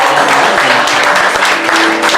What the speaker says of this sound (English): How about a nice big round of applause, everybody, for the bride